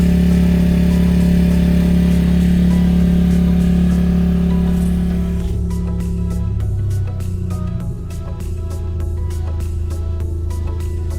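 Honda HR-V engine held at 1000 RPM, heard from inside the cabin: a steady low droning hum that softens and changes tone partway through, continuing as a quieter, even drone with faint ticking over it.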